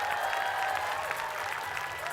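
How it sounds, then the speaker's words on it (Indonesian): A crowd applauds two models at a grooming challenge event, a dense steady clapping that fills the room, moderately loud and sustained with a faint murmur beneath. "boleh beri tepuk tangan untuk kedua model kita"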